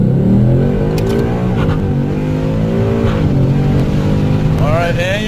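A street car fitted with a UPR shifter revs hard in first gear and pulls at full throttle, a loud, sustained engine roar with rising pitch toward the end.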